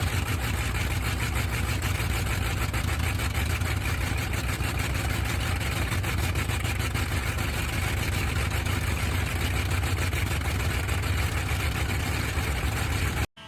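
Bristol Hercules British air-cooled 14-cylinder two-row radial aircraft engine running, a continuous loud, rough, throbbing drone with a fast pulsing beat that holds steady for over thirteen seconds before cutting off.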